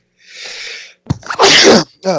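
A single loud sneeze up close, with a sharp breathy intake followed by the forceful burst, then a voice starts speaking.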